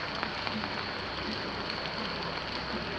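Rain falling at a temple entrance in Suphanburi, Thailand, a dense continuous hiss of drops spattering on surfaces, steady and fairly loud throughout.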